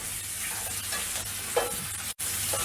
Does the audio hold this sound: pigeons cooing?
no